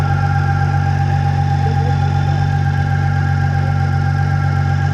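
A supercharged V6 car engine fitted with a Shelby blower runs on 12 pounds of boost, a loud steady idle with a constant low drone and whine and no voices.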